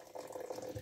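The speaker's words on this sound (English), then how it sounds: "I'm putting some water in the kettle" Warm water poured into a coffee pot for cowboy-style coffee, a steady close splashing fill lasting under a second.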